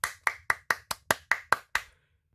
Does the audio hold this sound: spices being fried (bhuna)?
no